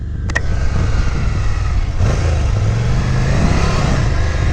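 Ducati Scrambler 800 Night Shift motorcycle, a 2022 model, idling and revving through its exhaust pipes with a steady, throaty low rumble, loud and close, rising slightly in pitch partway through with no talking over it.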